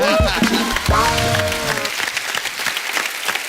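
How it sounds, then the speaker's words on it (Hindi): Loud studio audience applause breaks out on a comedy talk show and continues as a dense clatter of clapping, with voices exclaiming over it at the start before it settles. "जोरदार तालियां हैं।"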